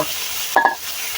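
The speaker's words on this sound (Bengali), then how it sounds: "এর মধ্যে কাঁচা টমেটো দিয়ে ভেজে নিব।" Raw tomato and cauliflower fry in soybean oil, a steady close sizzle punctuated by a quick pair of stirring scrapes from a utensil against the pan.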